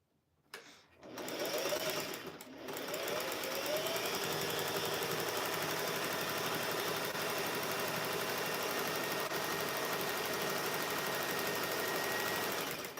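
A sewing machine runs steadily and close for about twelve seconds after a brief start, a continuous mechanical whir with even vibration while it stitches flannel and batting for a rag quilt.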